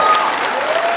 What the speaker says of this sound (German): Einmal bitte Applaus für Diego.